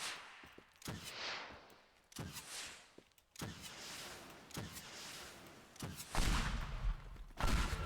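Explosions in the destruction game Teardown, a series of sharp blasts and crashes at irregular intervals with debris noise between them, the loudest rumbling hits near the end.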